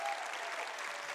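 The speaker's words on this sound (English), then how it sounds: "give one more rousing round of applause to our brave team" Brief, faint burst of audience applause at a teen mental-health show held in a church, a dense wash of clapping from a crowd heard at a distance.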